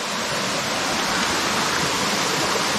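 Chakratirtha waterfall near a temple in Keonjhar pours in a loud, steady, dense rush of falling water, unbroken and close, with no voices.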